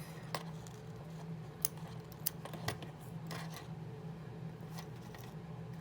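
Scissors snip yarn after tying off a crocheted pig, a few faint, brief clicks and snips scattered over a steady low background hum, quiet and close.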